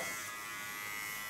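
Electric hair clipper trimming hair while someone cuts around the ears and neckline: a steady close buzz that holds level for the whole short stretch.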